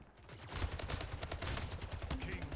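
Rapid automatic gunfire from the player's main weapon in the Splitgate shooter game, a dense, loud stream of shots that runs steadily throughout with no speech over it.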